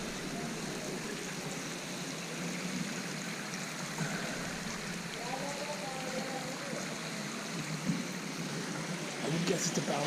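Warm spring water flows steadily from its source on a Himalayan hillside, a constant close rushing trickle that fills the whole stretch, with a voice speaking faintly over it.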